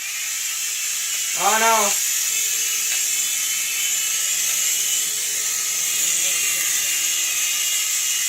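A small remote control helicopter's motor whines at full throttle in a high, steady buzz that runs throughout, while a voice briefly exclaims over it during the crash landing.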